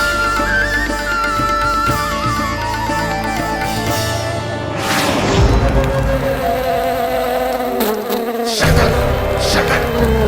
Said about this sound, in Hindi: लगता है मक्खी थक गई है